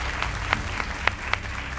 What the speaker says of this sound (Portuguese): Também as palmas do nosso auditório.